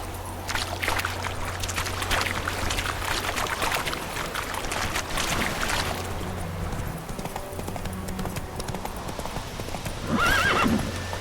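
A horse gallops in the video game The Witcher 3, with loud, rhythmic hoofbeats throughout and a whinny near the end.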